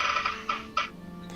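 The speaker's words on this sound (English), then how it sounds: "that's when you hear the squawk of a bird, a gull" A gull squawks in a couple of harsh, nasal calls, fairly close and clear over a soft steady background.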